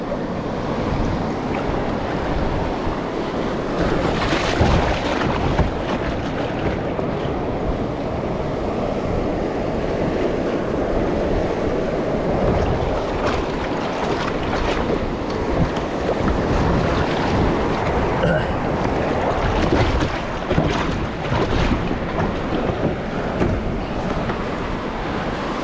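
Heavy surf crashing and churning nearby, a continuous loud wash of water with gusts of wind and rolling swells, no voices.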